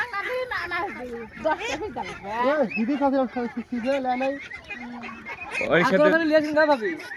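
Forty-five-day-old ducks quack and call repeatedly up close during a duck plague vaccination, mixed in with people talking over them.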